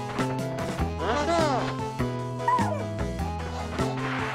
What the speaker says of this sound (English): Why are you yelping?